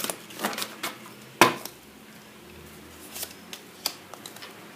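Tarot cards are shuffled and drawn, producing a handful of soft, crisp card flicks and snaps at close range, with one sharper slap near the middle and quiet pauses between.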